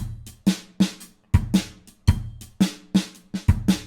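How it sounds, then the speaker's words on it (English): An electronic drum pattern loops with punchy kick and snare hits and crisp hi-hat ticks in a steady, bouncy rhythm, played alone and up close. "our drum pattern that we came up with from our digital drum set sounds like this"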